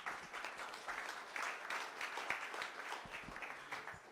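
Applause from a conference audience at a venture capital panel in Silicon Valley, a moderate, somewhat distant patter of many hands clapping steadily throughout.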